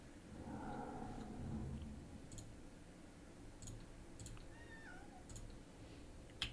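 A house cat gives a soft, faint meow or two against a quiet room background, with light clicks scattered around it.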